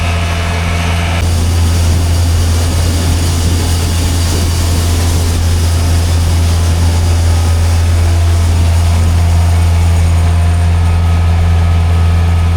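Feed delivery truck from a mill unloading cattle feed at a farm, its heavy engine droning low and steady throughout, with a mechanical unloading whir rising after the first second.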